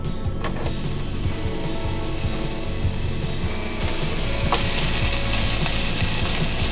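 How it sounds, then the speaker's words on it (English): Chopped onion sizzles steadily in hot oil in a pan on medium heat, a loud, dense crackle that runs without a break. "So we'll add our onion."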